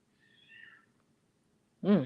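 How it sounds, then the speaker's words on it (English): A cat screams outside: a faint, distant wavering wail, then a pause and a sudden louder, short cry close by. "There's a cat screaming outside."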